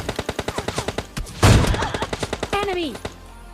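Gunfire in the mobile battle game PUBG Mobile Lite begins with a quick, evenly spaced burst of shots, then a louder blast. A voice speaks briefly near the end.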